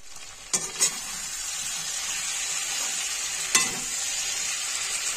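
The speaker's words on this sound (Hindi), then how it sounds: "हम 1/2 चम्मच क्रश की हुई लाल मिर्च और इसे हम 2 से 3 मिनट के लिए इसी तरह कुक करेंगे" Crushed red chilli cooks in a pan for an aloo palak dish, giving a steady, close sizzle broken by a few quick spoon taps and stirs.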